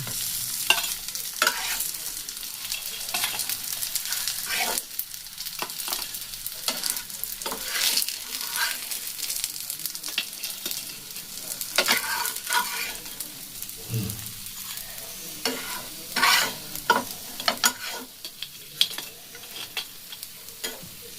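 Khaira fish coated in ready-made masala fries in hot oil, a continuous close crackling sizzle with frequent spatula scrapes and knocks against the pan throughout, no talking.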